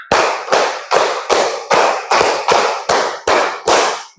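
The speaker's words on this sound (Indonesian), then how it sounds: "Give me applause." A school class claps in unison, about ten sharp, evenly spaced claps in a steady rhythm, loud and close.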